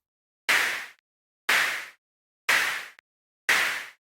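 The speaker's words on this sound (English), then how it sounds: "I wasn't able to figure out how I can get the snare to start on the second beat of each bar so it would hit on the 2 and the 4" A noisy synthesized snare from a modular synth, driven by LFOs, hits four times at even one-second intervals, each burst bright and sharp with a short decaying tail and silence between.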